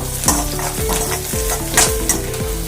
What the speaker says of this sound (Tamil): இப்போ பாத்தீங்கன்னா கிரீன் சில்லி ஆட் பண்ணிக்கலாம் அதையும் போட்டு நல்லா ஃப்ரை பண்ணிக்கலாம்